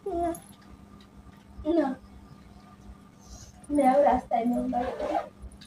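A cat gives a few short meows, close by, between quiet pauses, while a person talks softly to it.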